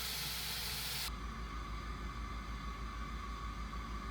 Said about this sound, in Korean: 오븐에 반죽을 넣고 데워진 자가리로 뜨거운 물을 부어서 스팀을 주었어요